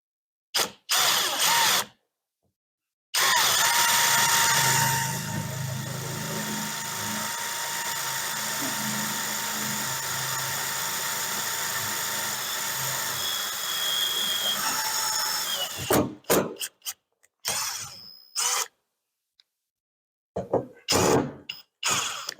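A power drill drives a self-tapping screw during a Super C RV renovation, its motor whining steadily for about thirteen seconds before several short bursts and stops, with brief talk nearby.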